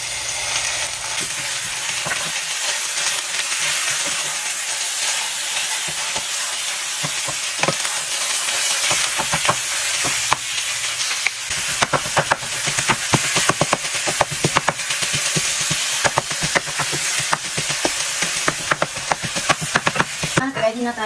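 Two pounds of ground pork frying in a pan with onion, a steady crackling sizzle punctuated by sharp scraping stirs and clinks that grow busier and louder toward the end.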